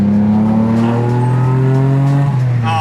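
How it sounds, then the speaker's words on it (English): Mitsubishi 3000GT turbo engine revving steadily and loudly up close, its pitch rising and holding through the whole stretch, with a brief throttle change near the end. "let's hear the turbo."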